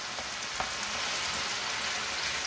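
Onions, chilies and potatoes frying in a pan for a vegetable omelette, giving a steady, even sizzle with faint crackles throughout, no voices.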